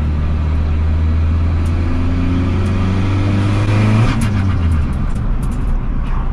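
Big-turbo TDI diesel tuned to 375 hp, fitted with an intake stack instead of an air filter, revving hard in third gear; a loud continuous engine roar climbs in pitch, then drops back as the revs fall.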